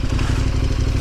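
Off-road motorcycle engine running with traction control on, a loud, close, continuous pulsing thrum with rapid regular firing beats and some rattle.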